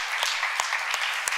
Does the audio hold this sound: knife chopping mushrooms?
no